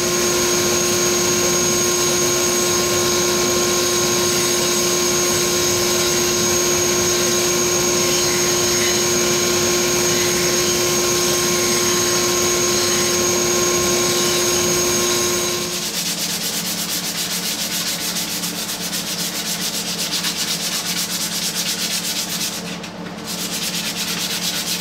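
Continuous close sanding shapes the handle of a wooden back scratcher, a steady abrasive rasp with a whining motor tone that shifts partway through to a rougher grind.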